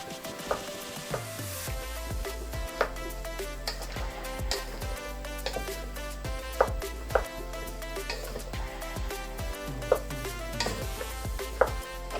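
Pakbet vegetables stirred as they fry in a pan, with a steady sizzle under repeated scraping and clacking of the spoon against the pan, close and fairly loud throughout.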